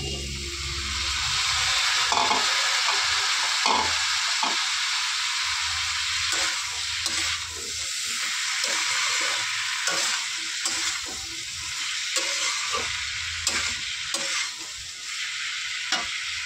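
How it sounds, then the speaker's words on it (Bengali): Onion stalks fry in a pan for a curry, a steady broadband sizzle with repeated scraping stirs of a spatula running through it, loud and close with no voices. "এবার পেঁয়াজ কলিগুলো দিয়ে দেবো।"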